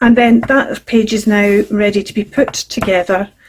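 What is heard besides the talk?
No everyday noises stand out.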